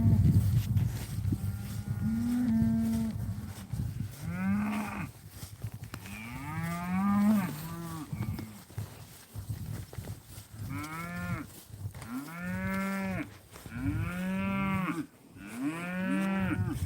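Cattle moo in an afternoon pasture, a loud series of long, close bellows repeating through the stretch, some overlapping, with steady outdoor background and no talk.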